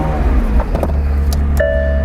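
A McLaren 720S fitted with a Novitec exhaust rumbles close by at a low idle-like growl, with a few faint clicks and a short mechanical whine near the end, steady and fairly loud without speech.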